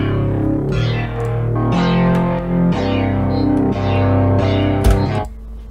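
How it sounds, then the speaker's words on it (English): A distorted synthwave guitar from the Electricity plugin on the Hot Soul Rig preset plays sustained chords that change about once per second, loud and up front, then cuts off abruptly at the end. "Yeah, and for the guitar I use Electricity, I believe. Yeah, I use a preset of Electricity, guitar rig preset of Hot Soul Rig"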